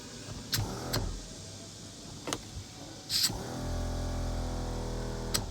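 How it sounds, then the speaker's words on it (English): An RV leveling pump runs to inflate the rear air shocks, a low steady motor hum starting partway through and continuing, preceded by a few sharp clicks and knocks nearby. "pump up the rear shocks for leveling"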